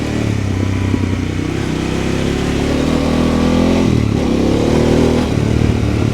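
A Harley-Davidson Pan America motorcycle on Pirelli Scorpion Rally STR tyres rides over loose gravel. Its engine drones loudly and steadily throughout, with a slight rise and fall in revs and a faint gritty clatter underneath.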